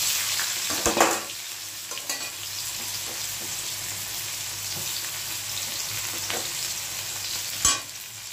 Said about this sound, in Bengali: এই যে পেঁয়াজটা ভাজছি না, এত সুন্দর একটা স্মেল বেরোচ্ছে